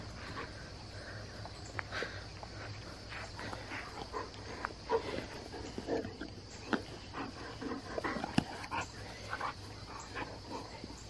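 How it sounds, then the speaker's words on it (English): Dogs scuffle and growl over a turtle at some distance, with whimpers, panting and sharp snarls rising now and then over a faint outdoor hum. "Our crazy dogs are fighting over a turtle."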